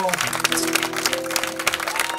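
A church congregation at a consecration service cheers and applauds in a dense, steady wash of clapping and voices, with a sustained tone running underneath.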